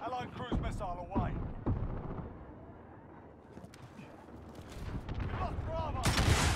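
Call of Duty: Modern Warfare multiplayer battle with rapid gunfire bursts, booming explosions from a cruise missile strike and rumbling impacts, with radio voice callouts over the combat.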